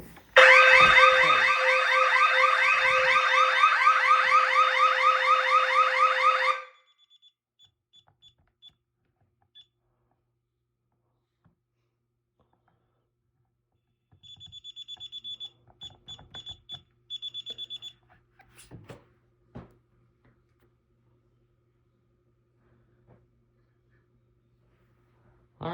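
A home security alarm system runs an exit delay test, sounding a loud, rapid pulsing electronic beep for about six seconds. After a long silence, a fainter series of intermittent short beeps and chirps follows, with no talk.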